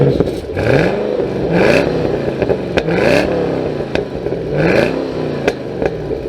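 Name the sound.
2013 Chevy Camaro ZL1 V8 revving with backfire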